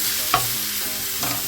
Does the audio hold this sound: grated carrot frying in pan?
yes